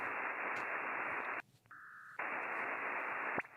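Band-limited amateur radio data-mode transmission hisses in long steady bursts, broken by a short narrow tone, then the noisy transmission resumes and cuts off.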